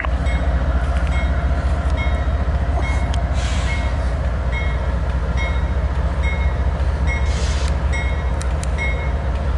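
A CSX mixed freight train rolls past at close range with a loud, steady rumble of wheels and cars and faint rhythmic clicks over the rail joints, continuing without a break.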